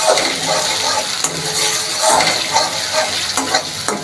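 Plain yogurt stirred into a hot pan of cooked-down spice masala for a boal fish dum, giving a steady close sizzle and frying hiss with occasional scrapes of a spoon against the pan, no talking.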